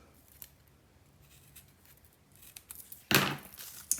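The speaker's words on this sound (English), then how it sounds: "I just like to go along with my scissors and just remove here and there" Scissors fringe-cutting paper strips for a birthday scrapbook page, with soft snips at first and then a louder, crisper cutting burst near the end, close and without talk.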